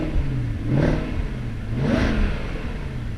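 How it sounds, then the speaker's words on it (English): Supercharged V8 exhaust of a 2009 Jaguar XKR coupe revving up twice in close succession, each rising surge falling back to a steady idle, loud and close with no talking. "Listen to this exhaust."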